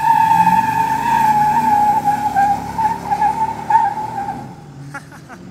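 A car does burnouts on a downtown street during summer, giving a long, loud, sustained tire squeal with engine roar. The sound fades near the end.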